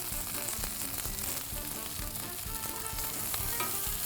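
Chicken wings sizzle steadily in an Alpha pizza oven tray, a dense continuous frying hiss with occasional scraping clicks as they are turned.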